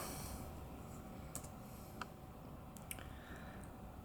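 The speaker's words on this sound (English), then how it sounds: "So you're going to type in rocks." Quiet typing on a computer keyboard, a few sparse soft key clicks over faint background hiss, no voices.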